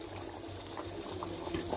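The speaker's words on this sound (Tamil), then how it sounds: "குழம்பு நல்லா கொதிக்க ஆரம்பிச்சிடுச்சு" Spicy Kerala-style vanjaram fish curry comes to a boil in a clay pot, producing a continuous close bubbling hiss with occasional soft pops and no talking.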